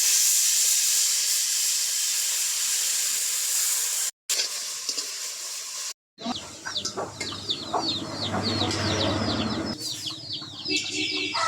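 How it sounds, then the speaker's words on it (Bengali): Washed shrimp fry in hot oil with a loud, steady sizzle for the first few seconds, after two short cuts, chirping birds and a low hum take over. "এবার ভালো করে ধুয়ে রাখা চিংড়ি মাছগুলোও তেলে আমি ভেজে নেব।"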